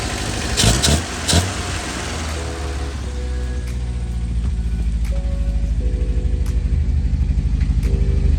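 A 1963 Volvo Amazon wagon's engine idles fast and steady at close range, a continuous even drone with a couple of louder knocks or bumps near the start and faint clicks over the top.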